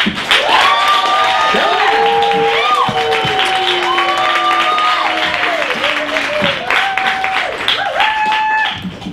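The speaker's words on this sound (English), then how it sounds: "Let's give a big balls out round of applause" A comedy show audience breaks into loud applause mixed with whoops and high cheering shouts, sustained for several seconds before tapering off.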